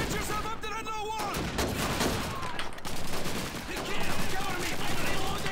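Gunfire in the World War II shooter game Call of Duty 2, with rapid overlapping shots and bursts under someone speaking, dense and continuous throughout.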